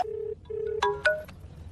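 A telephone in a Hindi dubbed action film gives two long electronic ring tones, then sharp brighter chimes, clear and close, with no one speaking.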